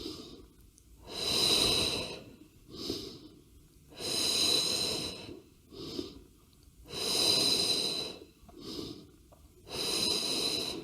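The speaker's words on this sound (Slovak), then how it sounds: "Nádych hore, výdych dole." Person breathing hard during leg raise exercises, with six long, loud exhales through the nose and mouth in a steady rhythm, alternating longer and shorter breaths, close to the listener with no talk.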